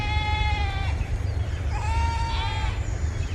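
Sheep bleat twice in a wavering, nasal call, close and clear over a steady low rumble of background noise, with a short gap between the two cries.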